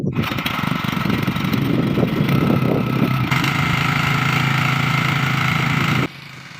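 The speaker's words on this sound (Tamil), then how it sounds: "இப்போ பாருங்கள், இன்ஜின் ஸ்டார்ட் பண்ணிட்டோம்." A 6.5 HP X1 Power petrol water pump engine runs steadily up close, a loud continuous motor drone that shifts slightly partway through, then drops off abruptly near the end.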